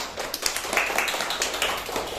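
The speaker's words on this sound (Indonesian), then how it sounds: "Beri tepuk tangan untuk kelompok 1" A class of students claps for the first group during a microteaching science lesson on landforms, giving steady, rapid, moderately loud applause that fills the room.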